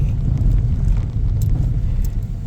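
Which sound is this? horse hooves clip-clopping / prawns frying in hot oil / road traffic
road traffic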